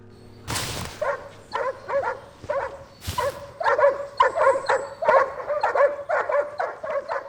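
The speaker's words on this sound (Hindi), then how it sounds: "जेम्स, डॉग्स को खाना दे दोगे?" Dogs bark and yip repeatedly at close range, a lively run of short, rhythmic barks with a couple of sharp loud bursts near the start, no speech over them.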